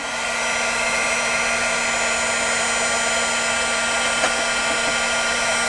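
A heat tool blows hot air onto a stamp: a steady, loud, close whirring blast with a constant motor tone, running unbroken throughout without speech.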